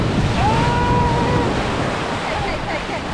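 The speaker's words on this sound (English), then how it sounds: "We've got to time this well so we don't get like attacked by the waves." Strong ocean waves crash and churn on a beach in Mati, Davao Oriental, a loud continuous roar of surf mixed with wind buffeting. A voice is heard faintly under the noise.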